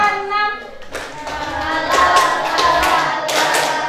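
Hands clap in a counted group rhythm, a series of sharp claps repeating at a steady pace under a voice calling out the count, close and moderately loud.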